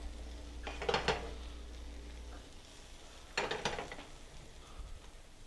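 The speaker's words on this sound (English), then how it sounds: "I want to drop the next piece in. Put my first one down in my pan." A soaked slice of French toast frying in a pan, a soft continuous sizzle under two bursts of clattering utensil and pan noise, close and fairly quiet, without speech.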